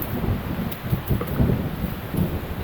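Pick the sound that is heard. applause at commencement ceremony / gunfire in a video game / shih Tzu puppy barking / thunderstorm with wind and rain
thunderstorm with wind and rain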